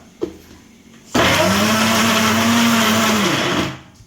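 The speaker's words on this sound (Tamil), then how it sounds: "வெங்காயம் தக்காளி இஞ்சி பூண்டு பச்சை மிளகு நல்லா அரைச்சிட்டு வந்துடலாம்" A mixer grinder whirs loudly and steadily for about two and a half seconds, grinding onion, tomato, ginger, garlic and green chili into masala, after a brief click before it starts.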